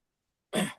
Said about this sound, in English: I caught a cold, and then I get into these coughing fits